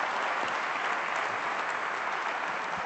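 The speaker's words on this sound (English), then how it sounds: "So nice round of applause. Mohamed Alabbar." A conference plenary audience applauds after a talk by Mohamed Alabbar, a dense, even wash of clapping from many hands, steady and moderately loud throughout.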